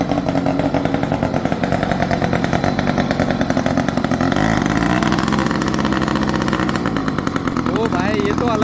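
A Kawasaki Z900 superbike engine idles loudly nearby with a rapid, throbbing exhaust note and a brief rev, as voices talk over it.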